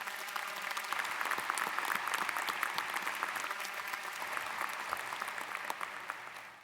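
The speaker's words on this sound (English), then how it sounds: "you deserve a round of applause" Graduation ceremony crowd at UCF breaks into applause, a broad, even wash of many hands clapping, fairly distant and soft, holding steady without a pause.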